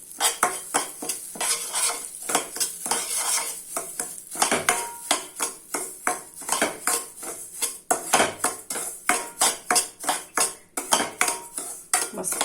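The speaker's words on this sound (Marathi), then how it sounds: "ह्याच्यामध्ये तूप टाकून अजून भाजून घ्यायचं." Semolina roasting in ghee in a pan, stirred with a utensil that scrapes in quick, repeated strokes over a soft, steady sizzle, close and fairly loud, with no voices.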